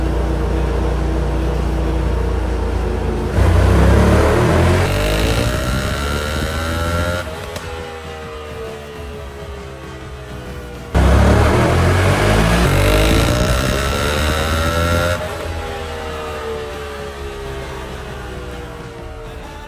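A turbocharged 990cc Honda Talon engine with forged internals runs on a dyno at 11 pounds of boost. It roars loudly through two long rising rev sweeps, each climbing to a high-pitched peak before dropping back.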